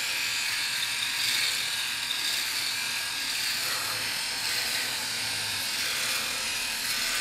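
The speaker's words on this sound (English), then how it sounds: "this is again the SURKER electric razor shaver" A SURKER electric rotary shaver runs steadily close up while shaving short stubble, a constant high buzzing whir with slight shifts in pitch as it moves over the skin, with no talking.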